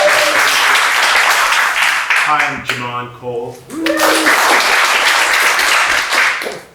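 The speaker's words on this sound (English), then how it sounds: "we'll give you a round of applause" An audience at a stage show applauds the performers, with broad steady clapping nearly throughout, dipping briefly while someone speaks near the mic in the middle.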